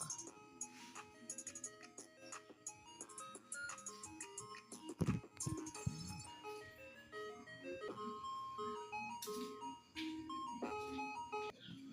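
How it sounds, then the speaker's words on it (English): Ice cream truck jingle from a children's story, a bright, steady tinkling melody of chiming notes playing continuously, fairly clear and unbroken, with a few brief thumps partway through. "So here we have, what is that? Right, an ice cream truck."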